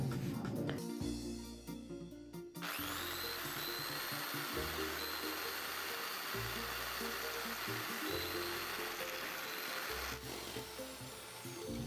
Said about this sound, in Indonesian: Kemudian kita lubangi menggunakan bor yang ukuran 1 cm, pelan-pelan saja.